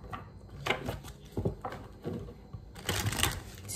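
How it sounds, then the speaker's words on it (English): Tarot cards are shuffled by hand in several short, papery bursts of riffling and slapping, close and fairly quiet, with brief pauses between them and no speech. "let's do four shuffles for the Emperor"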